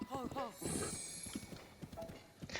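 A horse in a video game whinnies briefly, then its hooves clip-clop in a quick, steady rhythm, with people talking over much of it.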